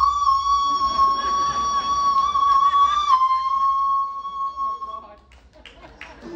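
A voice imitates a high soprano, holding a piercing, thin sustained note for several seconds before it breaks off into quieter sounds.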